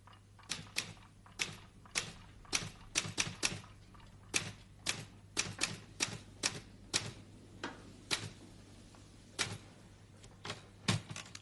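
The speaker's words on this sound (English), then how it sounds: "This machine makes a noise too. Do you know what it's called? It's called a typewriter." Typewriter keys strike in an uneven run of sharp clacks with short pauses between bursts, close and fairly quiet, with no voices.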